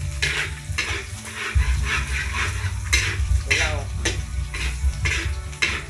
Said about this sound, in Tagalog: Papupulahin lang natin yung bawang